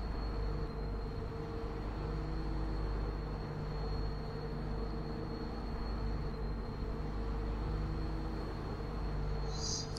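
A rail track maintenance machine in Farming Simulator 2015 runs with a steady, loud mechanical drone and low rumble with constant tonal hums, unchanging throughout with no speech.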